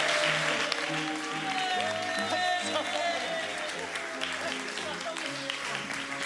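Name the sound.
comedy audience applauding a comedian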